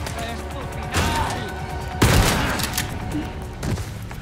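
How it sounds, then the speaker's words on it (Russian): A sawed-off shotgun fires in Resident Evil 4, with two or three loud, broad blasts a second or so apart over constant game ambience and clatter. "Давай попробуем с обреза, короче."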